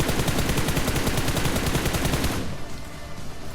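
Rapid automatic gunfire from the battle royale game BGMI rattles in a dense, loud burst for over two seconds, then cuts off into quieter game ambience.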